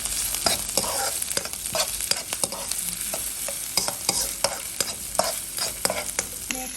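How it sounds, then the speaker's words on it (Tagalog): Garlic and onion sautéing in a pan for sinigang na salmon, a steady soft sizzle broken by frequent scraping stirs of a utensil, close and without talk. "ginisa ko muna yung bawang. Nilagay ko na din yung sibuyas."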